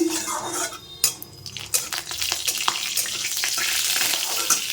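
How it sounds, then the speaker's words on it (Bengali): Whole cumin and dried red chillies sizzle and crackle in hot oil while tempering dal, a steady frying hiss with sharp pops and occasional clinks of a spoon against the pan, close up and with no talking. "এখানে ডালটা ফোড়ন দেব গোটা জিরে আর শুকনো লঙ্কা দিলাম"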